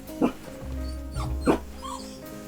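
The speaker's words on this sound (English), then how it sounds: "the dogs are freaking out" Dogs bark and whimper indoors in two sharp, close yelping bursts about a second apart, with softer whines in between over a low steady hum.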